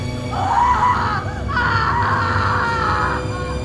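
A man's scream used as a sound effect in a Spanish horror audiobook of a Lovecraft and Hazel Heald tale rings out as a loud, sustained, wavering wail in two drawn-out bursts, heard alone.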